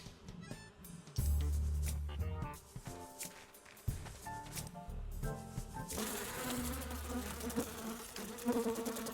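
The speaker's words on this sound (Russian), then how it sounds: "Дали пчелу." A bee buzzes steadily in the video game Another War, a close insect drone mixed with game music and effects, with no talking.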